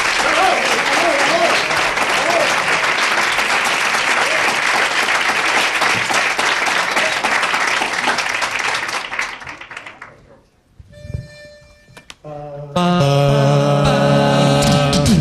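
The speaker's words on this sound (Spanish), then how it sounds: "Fuerte el aplauso para ellos, por favor" A large crowd applauds loudly for a vocal group at a live radio programme presentation in Aragón, sustained dense clapping for about ten seconds that fades out, then tonal music begins.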